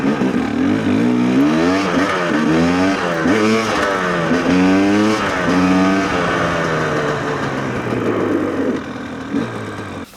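GPX TSE 300 motorcycle fitted with an XTNG Gen 3 Plus carburettor, ridden around the block: a loud, close engine note that rises and falls steadily through repeated revving and gear changes, easing off near the end, with no talk.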